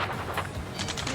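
Rapid gunfire crackles in a dense burst during an Ace Combat 7 mission at a space elevator, with sharper bursts of shots rattling near the end of the brief, steady barrage.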